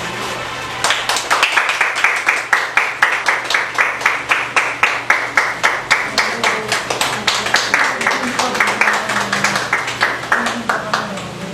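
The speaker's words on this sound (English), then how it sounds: "Ladies and gentlemen, help me welcome with a warm applause for" Audience at a Toastmasters club meeting applauding warmly, a dense sustained round of many hands clapping for about ten seconds, loud and close after a brief opening moment.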